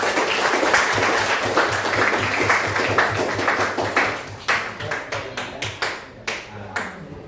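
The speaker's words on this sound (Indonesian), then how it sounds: "Tepuk tangan untuk kita semua." A classroom audience applauds together, dense clapping that thins into separate claps and a few scattered, spaced claps as it fades out.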